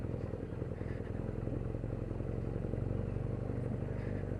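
A 2017 BMW R NineT Urban G/S scrambler motorcycle rides over cobbles on a town's main street, giving a steady low engine rumble with a fine continuous rattle from the bumpy surface, heard from the rider's position.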